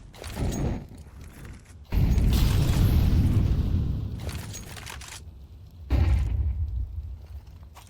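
Grenade explosions in a Counter-Strike match, two heavy booming blasts with long rumbling tails over game ambience and mechanical clatter.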